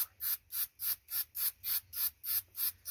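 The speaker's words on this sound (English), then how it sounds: "Take your can of spray adhesive, shake it thoroughly, and now what we're going to do is, holding it about this distance away, we're going to spray on here." Can of spray adhesive sprayed in short, evenly timed strokes, about nine bursts of hissing in a steady rhythm, close and clear with no talk.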